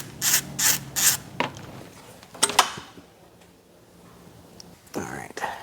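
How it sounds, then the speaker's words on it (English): Work on unbolting the AC compressor of a Mercedes C63 Edition 507 produces several short, close ratcheting bursts, followed by quieter tool clinks and shuffling, with another burst of ratcheting at the end. "and then I can unbolt the AC compressor."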